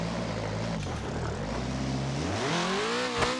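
A turbocharged Volkswagen Passat engine in the BeamNG.drive driving game drones loudly and continuously under heavy strain, its pitch dipping and then climbing again as it labors with no voices over it.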